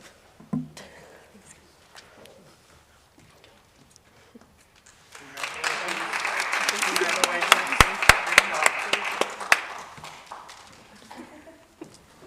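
Audience applause for a high school girls' gymnastics team and their coach at a school chapel gathering: a quiet stretch, then a sustained burst of clapping that swells and fades, nearby and fairly loud.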